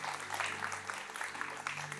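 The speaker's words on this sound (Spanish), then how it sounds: "quiero decirles que les dé un aplauso a las hermanas que hicieron este regalo" A church congregation applauding, a soft continuous patter of clapping from many hands, fairly distant and even, with a low hum beneath it.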